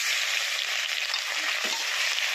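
Garlic sizzles in hot oil with dried red chillies and five-spice seeds for kochu shak, a steady close, dense crackling hiss with no voices.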